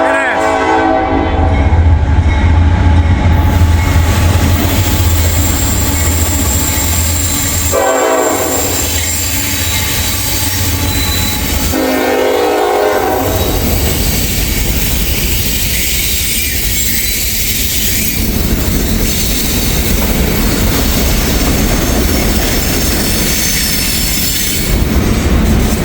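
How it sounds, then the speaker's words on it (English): A Norfolk Southern freight train rolls loudly past a grade crossing near downtown Dayton, Ohio, with a steady rumble of cars and wheels, a horn blast early on and faint wheel squeal throughout. "we actually do have a train coming this time, Norfolk Southern"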